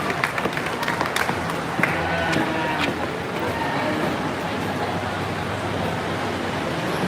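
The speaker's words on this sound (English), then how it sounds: "Let's give your first class of Red Angus exhibitors a round of applause" Applause rings out from the arena audience at the Houston Livestock Show and Rodeo for a class of Red Angus cattle exhibitors, a steady wash of clapping that holds evenly throughout.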